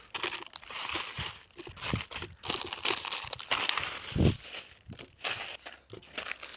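A plastic bag crinkles and rustles as sweets, surprise eggs and wafers are stuffed into it, irregular close crackling bursts with a few heavier crunches, fairly quiet and without talk.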